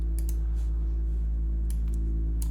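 A basic synth sub bass patch from an electronic music production, with very little high end and no wide mid-range: a steady, sustained low drone with a few faint clicks above it.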